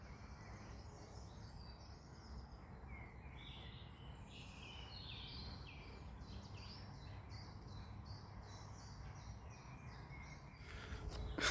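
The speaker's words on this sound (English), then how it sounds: "yeah, just sit and listen to the birds," Faint songbirds chirp and trill outdoors on a walk, scattered calls drifting over a soft, steady background hush, fairly distant throughout with a brief louder rustle at the very end.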